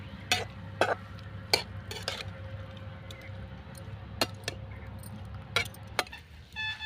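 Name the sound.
stirring capsicum vegetable curry in a pan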